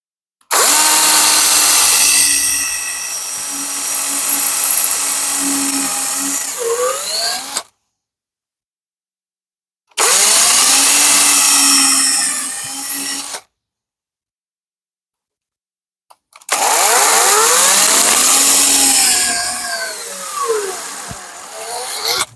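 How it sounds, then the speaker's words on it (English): A cordless power drill bores angled holes into the side of a workpiece in three separate loud bursts, each several seconds long with the motor whining steadily, separated by silent pauses. "I'm drilling them on a little bit of an angle"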